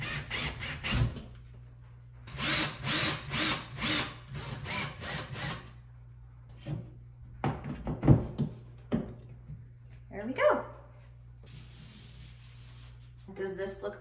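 Screws being driven into a wall with a power drill, several short whirring bursts close by separated by quiet gaps and small handling noises.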